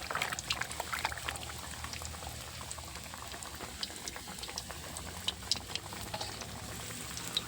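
Fish fries in plenty of hot oil, a dense, continuous sizzle and bubbling crackle with scattered sharp pops, steady and close throughout.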